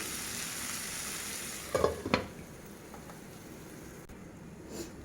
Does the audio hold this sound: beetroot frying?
yes